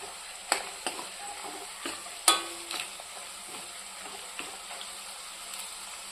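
Chicken curry with cashews and turmeric stirred in a pan, soft frying hiss under a few sharp spoon clinks and scrapes scattered across the stretch.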